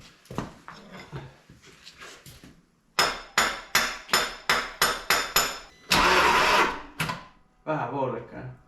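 A motor is turned over by its starter in a run of about ten rapid, evenly spaced cranking bursts, loud and close, with a steady noisy whir afterward and some talk before it.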